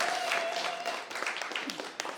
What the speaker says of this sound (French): On applaudit Mike, s'il vous plaît.